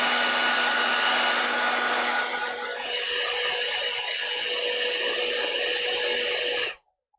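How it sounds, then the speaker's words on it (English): A hair dryer blows loudly and steadily at close range with a high airy whine for about seven seconds, then cuts off abruptly. "I am not tied to any brand of hairdryer"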